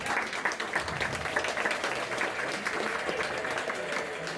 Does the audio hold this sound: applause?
yes